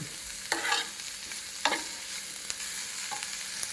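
Vegetables sautéing in butter in a pan for vegetable noodles, a soft steady sizzle with several scraping stirs of a spoon at intervals, close and fairly quiet, no talk.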